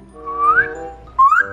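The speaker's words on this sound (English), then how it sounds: "she learned to copy my whistle" A pet bird copies its owner's whistle, giving two clear, loud rising whistled phrases separated by a short pause, heard alone and close.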